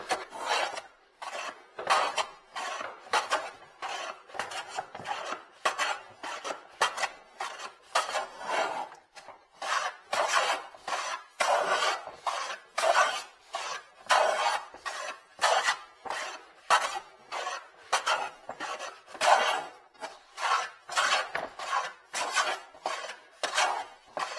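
A Busy Bee #7 jointer plane planes pine in long, rhythmic strokes, each a rasping swish taking thick shavings, repeated steadily and close by for the whole stretch.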